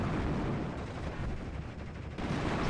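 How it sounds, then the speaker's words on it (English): Two half-tracks fire at a building in a World War II real-time strategy battle, Normandy 1944, a dense continuous roar of gunfire and blasts, loud and unbroken, with a brief dip before the barrage surges again. "these two half-tracks have recovered from the Spitfire strike and they're blasting the crap out of a building"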